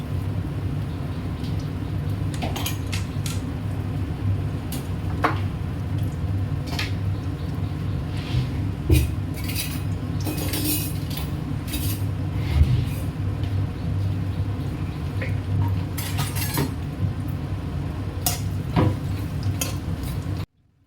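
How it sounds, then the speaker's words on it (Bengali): Sliced onions go into hot oil in a wok and crackle softly for about twenty seconds. Frequent clinks and scrapes of a spatula stirring against the pan sit over a low background hum. "কড়াই একটু গরম তেল দিয়ে দিলাম আর তাতে দিয়ে দিলাম পেঁয়াজ"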